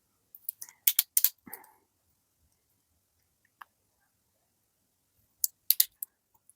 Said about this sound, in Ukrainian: NYX Fat Oil клік.